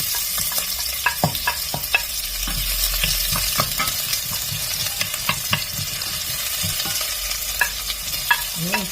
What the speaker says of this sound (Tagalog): igisa na natin yung sibuyas at saka luya